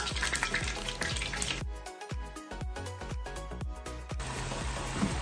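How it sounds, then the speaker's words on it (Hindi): Bay leaves dropped into hot oil for Hyderabadi marag give a loud burst of crackling and sizzling, then a run of sharp rhythmic taps in a quieter stretch before the sizzle surges again. "तेल गरम होने के बाद हम डालेंगे तेज पत्ता"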